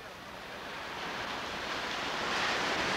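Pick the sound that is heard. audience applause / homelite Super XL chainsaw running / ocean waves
ocean waves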